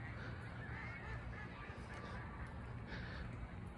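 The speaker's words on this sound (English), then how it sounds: "And those ducks are so loud." A flock of ducks at a pond calls continuously in the near distance, a busy chorus of honks and quacks over a steady outdoor background.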